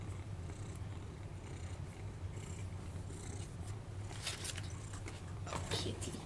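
A domestic cat purrs close by in a low, continuous rumble, with soft rustling and brushing of fur and clothing mixed in.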